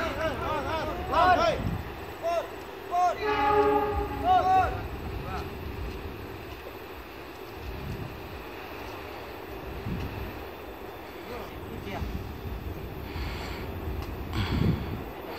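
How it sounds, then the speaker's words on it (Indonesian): The Argo Wilis passenger train rumbles over a bridge with a steady rolling clatter, a few horn-like tones early on, and someone speaking in between. "Kali ini kereta yang akan melintas adalah kereta api Argo Wilis."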